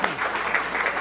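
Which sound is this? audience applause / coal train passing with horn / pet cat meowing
audience applause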